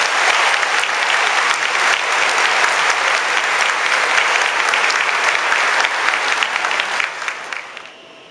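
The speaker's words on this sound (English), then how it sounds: "let's give them a big round of applause" Steady, dense applause from a graduation audience honoring graduates and awardees, loud and continuous, fading out over the final second.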